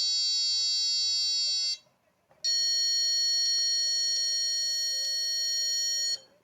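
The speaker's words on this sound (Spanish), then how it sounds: "suena diferente, el pitido es diferente" An Autel PS100 circuit tester on a protoboard emits a piercing electronic beep for negative current, a long steady tone, a brief pause, then a second tone at a different pitch holding until cut off.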